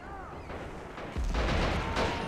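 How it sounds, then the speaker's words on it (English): Mortar fire in Men of War: Assault Squad 2, a World War II strategy game: a single heavy boom strikes about halfway through and rumbles on over faint background battle noise. "Let's get the mortar working."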